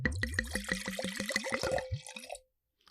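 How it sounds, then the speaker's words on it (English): Wine poured from a bottle, a quick run of about ten rhythmic glugging gurgles that slow into a short trickle and stop, close and clear with no talking. "That bottle poured like it had an important name on it."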